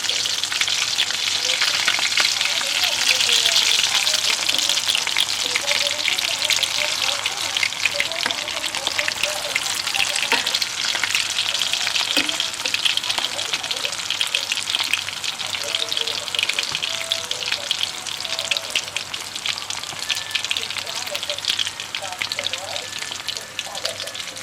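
Egg and potato chops frying in hot oil, a steady loud sizzle running through the whole stretch with occasional crackles and faint stirring noises, no one talking.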